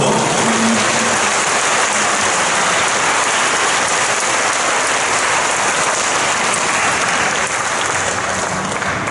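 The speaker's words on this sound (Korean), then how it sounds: "우리 큰 박수로." Loud, dense applause fills a Korean church's combined worship service, thanking a flute player and the sound crew; the clapping is sustained and steady from start to finish with no voices over it.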